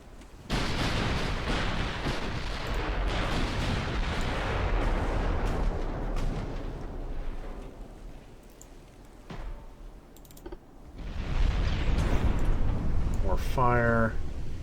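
Warship guns fire in the naval strategy game Ultimate Admiral Dreadnoughts, a long roaring barrage of booming blasts that fades, then swells again near the end with a brief electronic chime.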